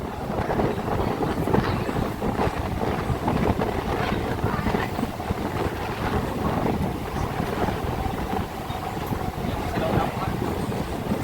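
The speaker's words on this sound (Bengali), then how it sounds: "হাওড়া থেকে চুয়াল্লিশ কিলোমিটার পথ অতিক্রম করে আমাদের ট্রেন এসে পৌঁছালো বাগনান স্টেশনে" A Howrah–Panskura local train pulls into Bagnan station, a steady loud rumble with broadband clatter and wind-like rushing that holds throughout, with no clear voices.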